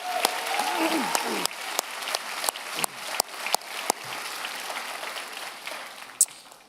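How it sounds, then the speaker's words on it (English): Convocation audience applauding in a large hall, a steady wash of many hands clapping throughout with a few sharper individual claps standing out and faint voices underneath. "Let's give them all a round of applause."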